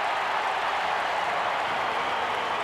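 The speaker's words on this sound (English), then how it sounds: "The crowd for St George loving it." A St George rugby league crowd roars steadily during a 1997 NRL match against Manly, a dense, continuous wash of distant cheering with no break across the whole moment.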